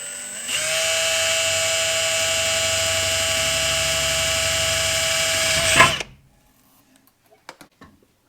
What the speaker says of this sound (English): Let's again do a little pilot hole.